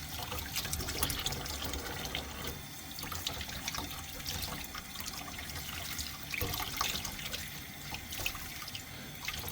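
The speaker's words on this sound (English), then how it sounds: "I think I'm going to rinse these off" Running tap water splashes steadily over Datalogic PowerScan barcode scanner wall mounts as they are rinsed in a sink, a continuous close wash with irregular spatters and no talking.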